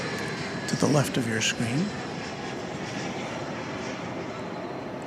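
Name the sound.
airplane taxiing toward runway 18 left at DFW Airport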